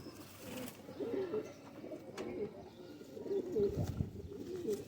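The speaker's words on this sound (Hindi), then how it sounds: "दुबई, फुल दुबई करने वाले कबूतर हैं ये" Dubai pigeons coo softly at close range, repeating low, throaty calls in uneven bursts over faint background noise.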